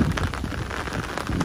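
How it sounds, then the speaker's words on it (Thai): Rain falls steadily outdoors, a dense patter of drops on surfaces with a few heavier splashes. No voices are heard. "เสียงฝนเนี่ยครับพี่น้องครับนี่อยากให้ตกแรงๆมาเลย"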